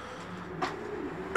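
Bulgarian breed pigeons in a loft give soft low cooing, a steady murmur with a brighter flutter or call midway and a sharper sound at the end, close and fairly quiet.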